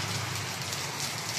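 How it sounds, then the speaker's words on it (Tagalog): Heavy rain pouring steadily outdoors, a loud continuous dense hiss with no breaks across the short stretch. "Malakas po ulan, kaya hindi po ako makalabas."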